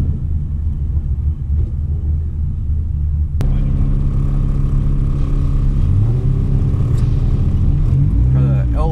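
A boosted LS-swapped Miata engine rumbles loudly at a track day, a deep steady drone that jumps in level partway through, with rising whine tones near the end.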